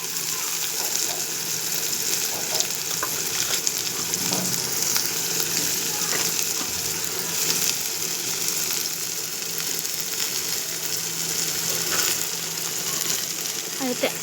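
Chopped onion frying in a pan with already-fried bitter gourd gives a steady, close hiss and sizzle, with occasional faint stirring scrapes and no talk.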